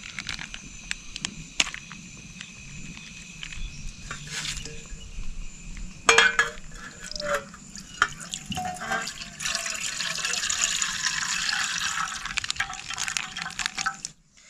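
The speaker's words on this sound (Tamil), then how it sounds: "இதெல்லாம் வந்து பாலை வந்து ஊற்றிடுவோம்" Milk, about four litres, is poured into a pot for boiling while making a cake, giving a steady liquid splashing and trickling that swells in the second half, with a few clinks of the vessel and no speech.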